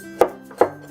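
A knife chops through zucchini onto a cutting board with two crisp, close thuds about 0.4 seconds apart.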